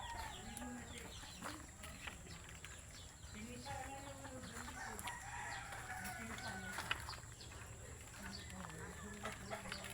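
Turkey gobbling and clucking calls in a busy farmyard, several birds calling over steady background noise and some distant voices.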